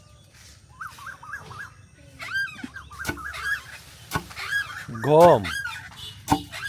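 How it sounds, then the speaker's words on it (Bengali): Birds in a village yard with a flowering bakul tree call in repeated honking, goose-like bursts, fairly close and loud, rising and falling in pitch across the clip while people talk faintly nearby. "দেখেন পাখির কি আওয়াজ"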